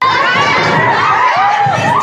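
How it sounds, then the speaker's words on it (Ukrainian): A crowd of parents shouts and chants at a protest outside a village school, a dense, continuous mass of raised voices with some higher children's shouts mixed in, loud and close for the whole stretch. "батьки учнів школи у верхній яблунці виганяли директора Івана Січака з освітнього закладу з криками геть."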